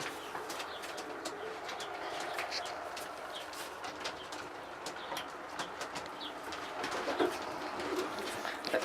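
Jan Aarden racing pigeons coo softly and repeatedly up close, with faint wing flutters and light chirps scattered throughout.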